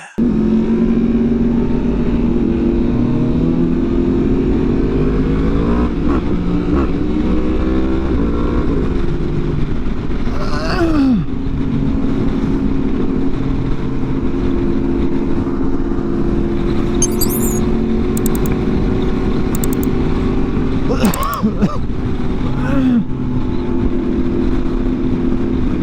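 Group of motorcycles riding together on the road, a continuous loud engine drone with rising and falling rev pitches and occasional sharper throttle blips passing close by.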